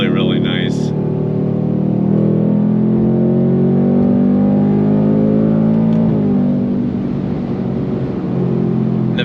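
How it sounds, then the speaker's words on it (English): A 2024 Ford Mustang GT with its Coyote V8 and active exhaust, engine rumbling and rising in a steady rev, with the pitch climbing and then settling. It is continuous and fairly close, with a voice heard briefly. "love the sound of the Coyote, man"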